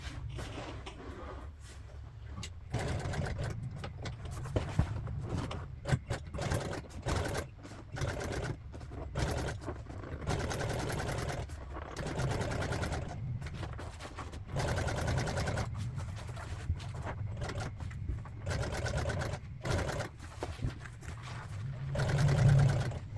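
Sewing machine top stitching MGB seat upholstery in a French seam, running in repeated bursts of rapid needle clatter separated by short pauses, close and fairly quiet.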